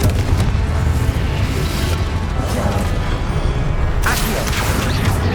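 A Confringo fire spell blasts in Hogwarts Legacy, a loud booming burst layered over dense rumbling combat noise, with a sharp crack of impact partway through and no speech.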